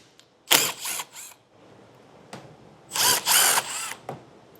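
A power drill backs out a 7mm screw from behind a flap on the front fascia of a 2022 Chevrolet Equinox, two close, loud whirring bursts separated by a short pause, with a few light clicks around them.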